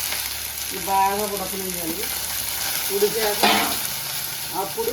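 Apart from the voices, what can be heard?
onions sizzling as they fry in a pan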